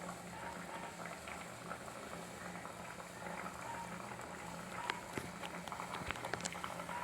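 Potatoes and curry leaves boil with salt in a pot on a wood-fired stove, a soft, steady bubbling and simmering hiss that runs throughout, with occasional small clicks and pops.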